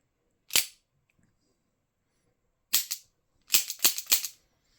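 A Webley MKVI 4.5mm CO2 BB service revolver is fired in single action and then double action, giving one sharp report, a pause, another, then a quick burst of three or four shots in close succession.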